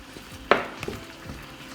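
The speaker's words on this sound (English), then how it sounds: "I am sure you can hear the sauce sizzling in the background." Pasta sauce for fresh pasta and meatballs sizzles in a pan, with a sharp burst of frying hiss and a spoon scraping and stirring, close and brief with no talk.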